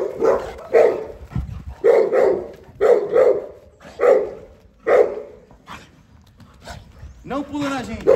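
A young Fila Brasileiro dog, under two years old, barks repeatedly at close range in short regular bursts, with a higher yip or whine near the end.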